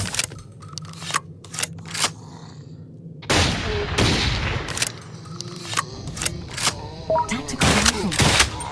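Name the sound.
tactical rifle gunfire in the video game Audio Defense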